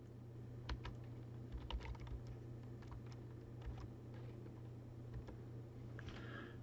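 Keys on a computer keyboard are pressed repeatedly as the Tab key moves through form fields. The faint, scattered clicks sound close, over a quiet background hum, with no talking.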